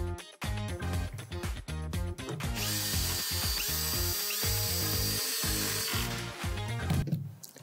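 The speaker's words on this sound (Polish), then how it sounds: "Następnie przystępuję do montażu z wykorzystaniem wkrętów do drewna ze spłaszczonym" A power drill drives flat-head wood screws into the back panel of a low MeriVobox drawer, with loud, close whirring bursts and sustained grinding through wood, then a short pause and more rattling.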